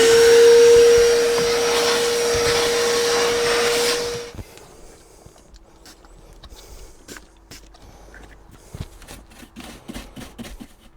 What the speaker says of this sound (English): let me quickly grab the hoover and we'll give that a clean.